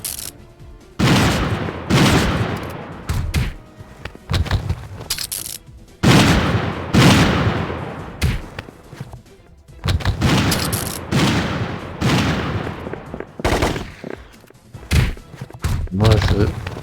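Gunfire in the Pursuit Force video game comes in repeated loud volleys of rapid shots with heavy thuds. Short pauses separate the bursts.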